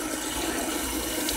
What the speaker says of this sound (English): So I'm just gonna turn on the water and get it ready.